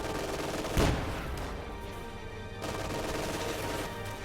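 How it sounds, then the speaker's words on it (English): A .50 caliber machine gun fires in a multiplayer military video game, with one sharp, loud report standing out against a dense, noisy wash of continuous battle sound and no voices. "Pathfinders providing vision for that 50 cal means that it can definitely fire through its full effective range"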